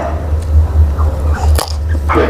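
Crunchy Thai green mango dipped in sweet fish sauce being bitten and chewed, a few loud close crisp crunches over a steady low hum.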